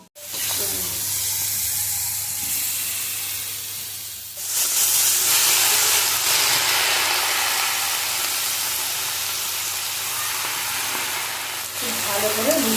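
Taro greens sizzling in a hot pan, a loud steady hiss of frying that flares up as more goes in partway through and holds high, with brief stirring scrapes near the end.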